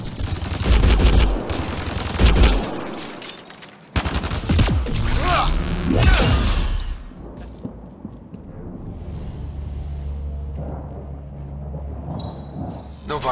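Gunfire crackles through a firefight in the video game Mass Effect Andromeda. Rapid automatic bursts and single shots come in loud clusters, then ease into quieter, scattered shots and ambient rumble as voices shout over the action.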